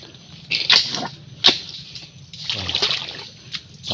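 Water in a small creek during a hunting walk, with irregular splashes and trickles that come in short bursts between quieter moments, close by and with no voices.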